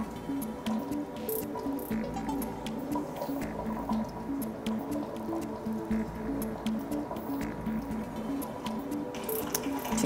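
A mixer steadily stirring a silicone-free skin care cream as water phase is added, a repetitive wet churning and squishing with a droning motor tone underneath, continuous and close.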